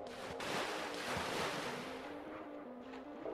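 A water splash in The Legend of Zelda: Twilight Princess at a nearly dried-up Lake Hylia: a broad rushing wash of water that swells early, then settles into a steady surf-like hiss over a soft, sustained musical tone.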